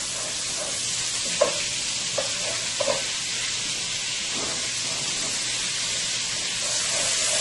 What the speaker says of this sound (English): let my butter melt into my oil here